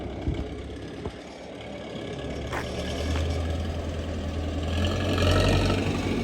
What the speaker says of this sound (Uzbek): Motorlari ham juda tekis, korobka zatimoshlari ham gaz tashlaganda ham ovoz chiqqan yo'q